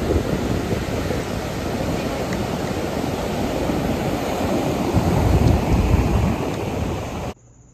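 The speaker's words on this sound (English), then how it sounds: "It's very rough out there. Like, those waves are crazy." Rough surf pounds the beach at the Outer Banks, a dense, continuous roar of crashing waves with a heavier surge near the end, broad and loud with wind buffeting the mic, then cutting off abruptly.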